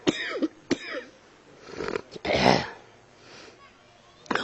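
A man coughs several times, close and sharp, a few separate bursts with pauses between them and one longer, harsher cough in the middle, in a quiet room.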